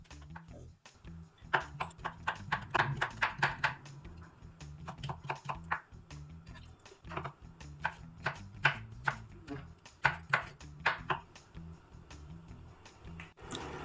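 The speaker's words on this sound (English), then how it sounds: "we will cut the carrots into fine juliennes" Rapid, irregular chopping taps of a knife on a cutting board as carrots are cut into julienne, coming in quick bursts with brief pauses between runs.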